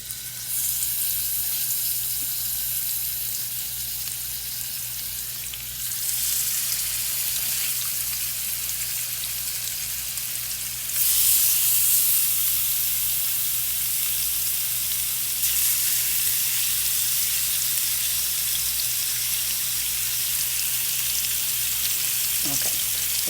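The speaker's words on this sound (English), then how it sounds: "once it's nice and hot, you wanna add your salmon" Salmon fillets sizzle steadily in hot oil in a pan, a loud, continuous broadband frying hiss that swells a little at times, with faint kitchen clatter underneath.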